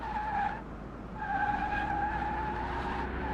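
Tyres squeal continuously as a Mitsubishi Eclipse Mk3 with faulty brakes skids and slides in Car Mechanic Simulator 2021, with a steady engine drone underneath, loud and close, briefly easing before the screech returns.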